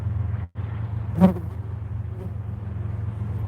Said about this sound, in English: It was a wasp actually. It was a yellow jacket